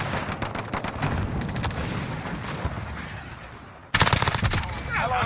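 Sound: cruise missile launch in a video game

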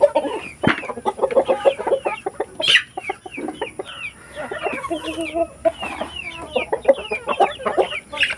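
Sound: chickens clucking

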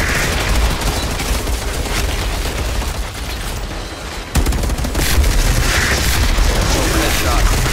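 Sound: gunfire in the video game Outriders

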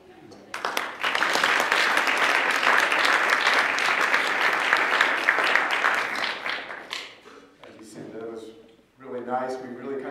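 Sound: audience applause welcoming a seminar speaker

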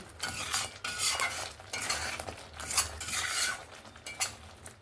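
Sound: sautéing ground chilli masala for chicken curry in a pan

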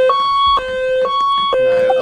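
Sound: fire station alarm in a video game roleplay

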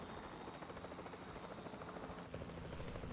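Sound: helicopter flying in video game Jurassic World Evolution 2

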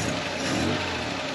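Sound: 1954 Chevy Bel Air 235 engine with dual carburetors running

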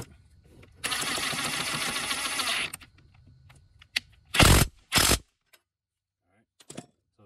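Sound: tightening a screw on a car A/C condenser

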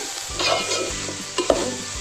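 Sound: dry roasting ingredients in a pan

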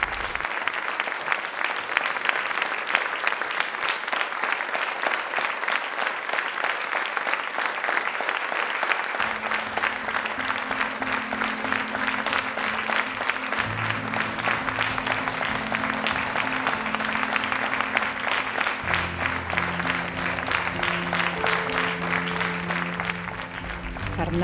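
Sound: audience applause in theatre

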